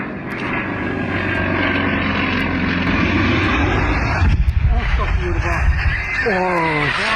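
A small propeller farm plane's engine drones steadily and loudly, with a rough shift partway through during a failed landing, while voices talk over it.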